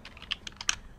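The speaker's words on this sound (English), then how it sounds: "And I will type here like employee ID, it's just a label." Keystrokes on a computer keyboard while a label is entered during ASP.NET and SharePoint Online development work: a short, close burst of roughly six crisp clicks with no speech.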